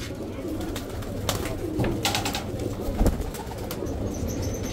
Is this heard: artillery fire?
no